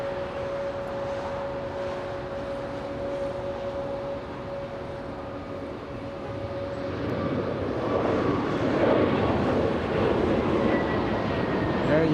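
A Delta airliner, flight 689 to Raleigh, taking off from LAX and climbing steeply, a steady jet roar with a whining tone that swells louder in the second half, heard from a distance.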